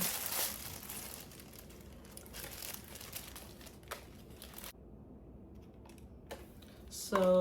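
Packaging for a Kurt Geiger purse crinkles and rustles as it is opened, soft crackling paper handling with a few sharper rips and a louder crinkle at the end.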